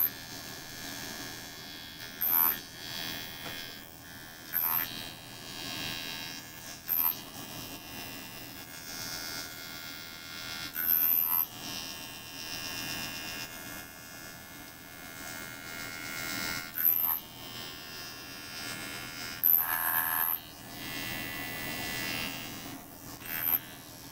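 A sonic facial cleansing brush buzzing against skin as a steady electric hum throughout, with short higher-pitched whirring pulses every few seconds, close and alone without talk.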